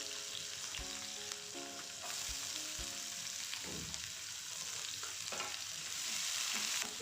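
Oil sizzles with a steady hiss as onions, mustard seeds and cumin fry in a pan, with a few soft clinks and stirs over the continuous crackle.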